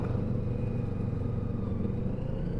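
A QJ Motor SRK 250 two-cylinder 250cc sport motorcycle with a clutchless automatic gearbox idles with a steady, close, even engine rumble throughout, with no voices.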